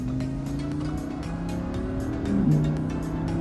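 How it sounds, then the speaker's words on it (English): A 2021 Audi R8 RWD revs hard in standard sport mode, its engine note climbing steadily and then stepping down as the automatic gearbox shifts, loud and close with a rough, buzzing tone. "and then your car will change its gear automatically for you."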